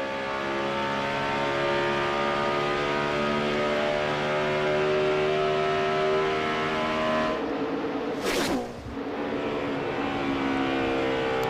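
NASCAR Sprint Cup race cars at Michigan's LifeLock 400 roar loudly and steadily with dense harmonic engine whine, a brief rushing swell as cars sweep past near the end.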